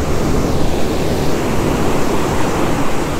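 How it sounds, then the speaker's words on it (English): Big ocean waves break on a beach shore at incoming tide, a loud, dense, continuous roar of surf with no distinct pauses or voices. "with these big waves, this can kind of just hold on"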